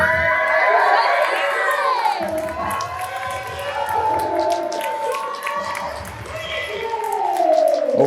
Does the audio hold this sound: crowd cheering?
yes